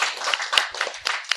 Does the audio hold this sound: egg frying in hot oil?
no